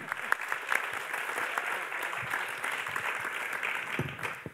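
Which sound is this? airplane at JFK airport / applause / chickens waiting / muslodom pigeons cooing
applause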